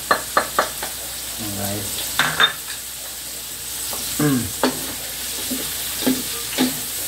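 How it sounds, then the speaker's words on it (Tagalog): Two ladles stirring bamboo shoot atchara frying in a pan, with steady sizzling and sharp scraping clinks repeated at close range, and a brief spoken remark over the cooking. "Kailangan yung paghalo, dalawang sandok para mahalo ng ayos."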